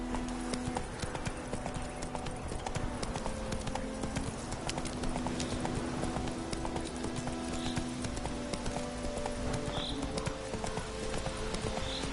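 The horse in The Witcher 3 gallops with a steady, quick clip-clop of hooves, quiet and continuous under a broad hiss of game ambience.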